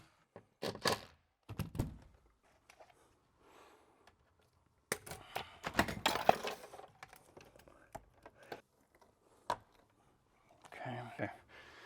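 Circuit breakers for an electric tankless water heater are clicked on in a garage setting, giving sharp, separate snaps and clacks spaced apart, close, with brief talk between them.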